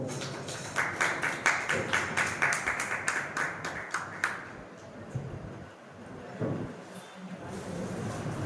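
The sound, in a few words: audience applause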